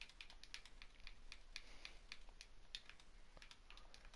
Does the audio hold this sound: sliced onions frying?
no